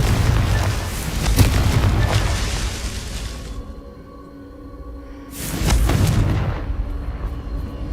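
Booming blasts from the Confringo spell in Hogwarts Legacy on PlayStation 5: two heavy, loud explosions with rumbling tails, separated by a quieter lull.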